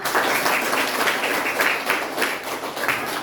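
Classroom applause after a student presentation in a vocational school lesson, steady scattered clapping from a small group, moderately loud and continuous without speech.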